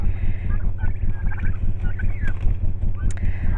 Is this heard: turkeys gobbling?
yes